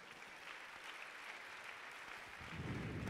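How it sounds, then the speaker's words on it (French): At an evening climate and social justice debate, the audience applauds the guests with a soft, continuous patter of many hands, faint and distant, swelling slightly toward the end with a low rumble. "je demande à ce qu'on les applaudisse bien fort"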